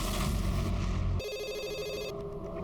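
An indoor telephone rings with a bright, repeated electronic trill. It cuts in abruptly after a burst of louder sound and carries on steadily and clearly.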